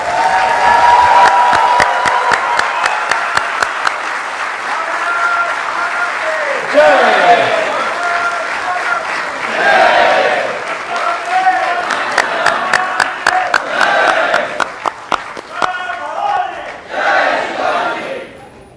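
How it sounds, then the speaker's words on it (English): An audience stands and applauds to welcome a guest of honour at an Indian community event in Brisbane, steady loud clapping and crowd noise that breaks into scattered individual claps as it fades. "Can I please request everyone to stand up and give him a big round of applause as we welcome him."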